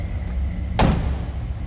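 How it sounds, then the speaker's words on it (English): A car door on a 1961 Chevrolet Impala two-door hardtop shuts with a single solid thud near the middle, over a steady low interior hum. "Door closes nicely."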